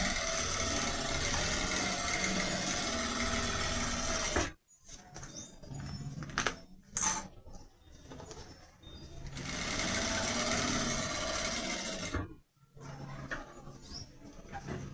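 A sewing machine stitches clear plastic onto a toothbrush case in a steady, fast mechanical whir. The machine stops briefly twice, then resumes with short bursts of stitching.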